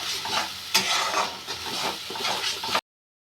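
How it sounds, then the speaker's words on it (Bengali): Spices with salt, turmeric and chili being stir-fried in a pan, a close, steady sizzle with scraping stirs of a spatula, ending abruptly in silence. "মশলাগুলো এবার কষাবো।"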